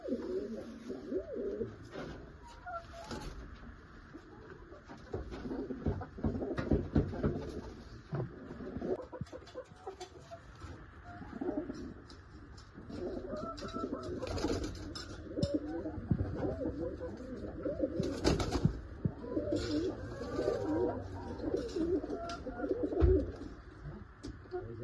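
Pigeons for sale coo continuously in a loft, with overlapping low, throaty coos from several birds close by, broken by frequent clatter and knocks of movement.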